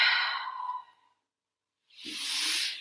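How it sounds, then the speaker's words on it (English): Deep breathing during a Pilates stretch: a long, soft exhale trailing off into silence, then a breathy inhale rising close to the microphone. "And breathe"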